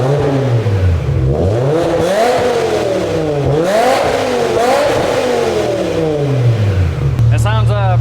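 BMW M6 E63 V10 with a custom FMU exhaust, loud and close, its engine blipped through a series of rising and falling revs above a rumbling idle before settling back down.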